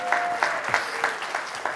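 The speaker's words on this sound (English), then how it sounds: "You have to clap when marriage comes up." Audience at a talk claps, scattered and uneven with a few louder hand claps standing out roughly every third of a second, moderately close, with faint voices in the room.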